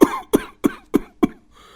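A man coughs five times in a sharp, evenly spaced series, each cough close and harsh, as if choking on thick cooking smoke in a poor household kitchen.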